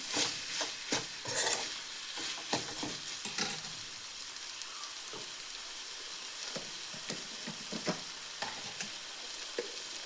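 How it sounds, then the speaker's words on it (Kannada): Eggplant with grated coconut is sautéed in a pan on a stove for a gojju, a quiet, soft sizzle under repeated sharp spoon scrapes and clinks that are denser early on, with no talking. "ಸೊ ಇದನ್ನು ಹಾಗೆ ಒಂದ್ಸಲ ಒಲೆ ಮೇಲೆ ಈ ಥರ ಚೆನ್ನಾಗಿ ಬಾಡಿಸ್ಕೊಳ್ಳಿ."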